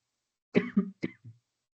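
A person clears their throat with a few quick, short coughs, close and isolated against silence.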